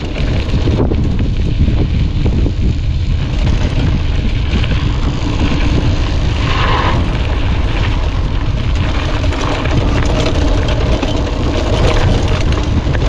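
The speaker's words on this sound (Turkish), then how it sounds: "Aşırı rüzgar var bilmiyorum kameraya yansıyor mu ama." Loud, constant wind buffets the camera microphone during a mountain descent, a dense roaring rumble with no letup throughout.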